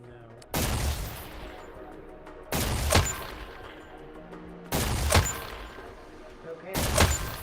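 Gunshots fired at targets in a virtual reality shooting game, four loud separate blasts about two seconds apart, each with a short decaying tail, over quiet background.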